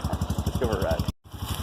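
The engine of a Massimo MSU 500 utility vehicle, a Rhino-style side-by-side, runs close by with a steady, rapid low pulsing throb that cuts out briefly near the end, while people talk over it.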